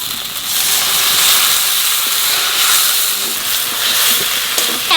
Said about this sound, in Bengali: এই মশলার মধ্যে অল্প একটু জল দিয়ে দেবো যাতে মশলাটা না পুড়ে যায়